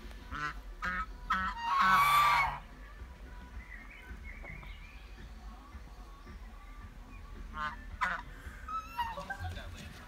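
Ducks quack and honk at a sunny bird and animal park. A loud cluster of calls rises early, then scattered calls continue over steady outdoor background noise.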